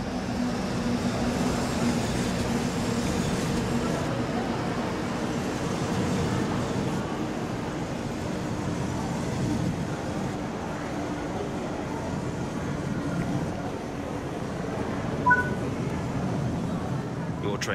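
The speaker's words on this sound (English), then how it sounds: "Train has arrived." A train in the Train Sim World game pulls in at a platform on the Linke Rheinstrecke line with a low, steady rumble and rolling noise at moderate distance, easing off toward the end.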